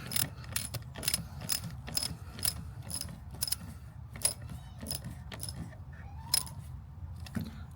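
A nut being tightened with a ratchet wrench onto the negative terminal of a 12-volt battery during installation of a remote disconnect switch, heard as a run of quick, close metallic clicks and ratcheting ticks with small clinks.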